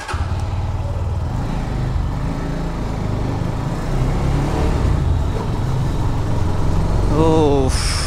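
Motorcycle engine of a GPX Demon running steadily as it pulls out of a parking area, a continuous low idle rumble that rises slightly in revs, with faint chatter in the background.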